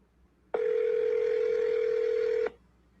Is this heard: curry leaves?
no